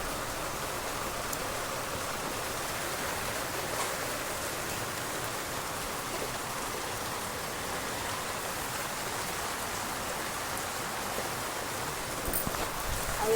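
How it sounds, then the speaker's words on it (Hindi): Heavy rain pours steadily over a village, a continuous even hiss of falling water that runs alone with no talking, growing slightly louder near the end. "ये तरफ में भी हूँ एकदम बारिश करत है, बहुत बारिश करत है एकदम झड़ी करी हुई।"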